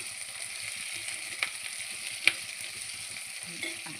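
Cabbage and onion frying in a pan for a Punjabi-style cabbage dish, a steady close sizzle with a few faint clinks of a spoon against the pan.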